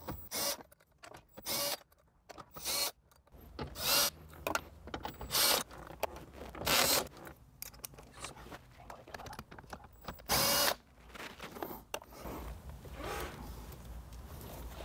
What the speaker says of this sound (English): Just use a 10mm socket with either a wrench or a power tool.